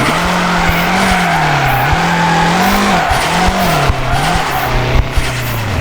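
Car drifting in the mobile game FR Legends: a continuous engine drone rising and falling with throttle under a constant loud tire screech, steady and close for several seconds with no talk.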